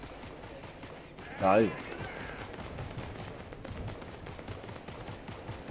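Gunfire in Fortnite, one short burst of rapid shots near the start, heard beneath ongoing voice chat with a steady game background.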